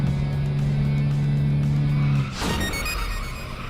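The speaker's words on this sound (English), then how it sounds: "You always got a handbrake finish across the line." A car in a racing video game droning at steady high revs, then lurching into a short skid as the handbrake is pulled at the finish line, with a brief scrape and the engine note dropping.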